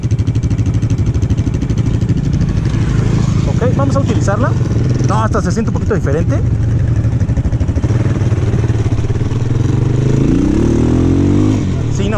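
A Vento Storm 250 motorcycle engine idles with a throbbing mid-pitched note and revs up in short rises, close and loud, while someone talks over it.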